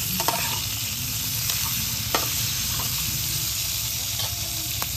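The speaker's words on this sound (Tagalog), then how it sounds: "paprito-pritohin mo na yan kunti" Frog adobo sizzling and frying in a pan at a camp, a steady close hiss with occasional stirring clinks and scrapes throughout.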